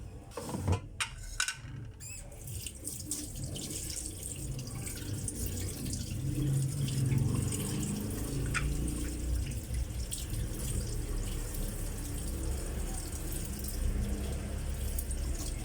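Running tap water splashes steadily over fish being washed in a sink, a continuous close rush with occasional clatters and handling knocks.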